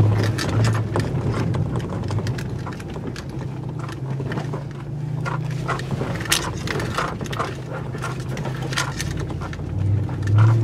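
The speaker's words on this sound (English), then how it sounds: "All that rattling you hear, it's not the truck. I have a bunch of junk inside the cabin here." Continuous clattering and rattling of loose items inside a 2021 RAM 1500 TRX pickup's cabin over a low engine rumble, with occasional louder knocks as the truck jolts over big rocks.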